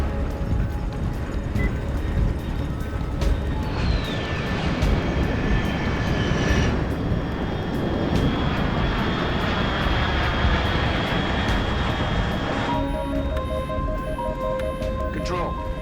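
Aircraft in Metal Gear Solid Delta: Snake Eater pass overhead with a loud continuous engine roar, a whine sweeping in mid-clip and electronic tones near the end, while voices speak over it.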